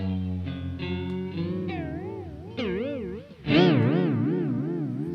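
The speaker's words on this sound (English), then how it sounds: "So that would be an example of extreme chorusing." A Steinberg chorus plugin is pushed to an extreme setting on sustained harmonic notes. The tones grow into a heavy, wobbling, warbling shimmer that gets louder and more intensely modulated toward the end, with no speech.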